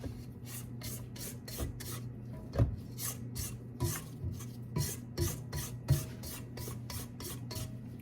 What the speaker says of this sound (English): And I want to scrape down the sides.